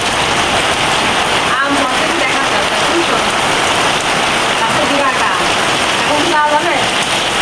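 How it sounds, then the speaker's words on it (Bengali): Dense, heavy rain pours steadily and loudly, a constant roar of drops hitting surfaces, with faint voices briefly audible beneath it. "প্রচণ্ড আকারে বৃষ্টি হচ্ছে এখানে"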